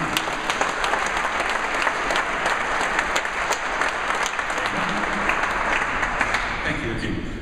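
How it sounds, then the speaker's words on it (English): A large audience applauds steadily for a book publisher at a TED event, a dense, sustained wash of clapping that carries on at full strength without a break. "I'd like to ask for a big round of applause for Sander Maven"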